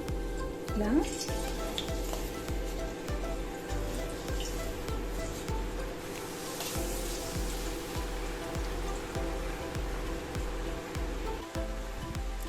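Janthikalu, pressed from rice flour dough, sizzle and bubble steadily in hot oil on a high flame, a continuous frying hiss with a regular faint tapping rhythm from the press or stirring underneath.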